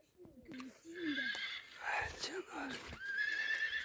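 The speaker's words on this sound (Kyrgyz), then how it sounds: "Көз тийбесин, өтө жакшы жылкы экен." A young horse, nearly two years old, gives several high whinnies close by, mixed with hoof-like thuds, while people talk around it.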